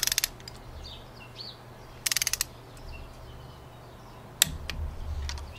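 A torque wrench tightening cylinder head bolts on an Ecotec engine block, heard as three short bursts of rapid ratcheting clicks, the last ending in a sharp snap, with low mechanical hum and quiet gaps between.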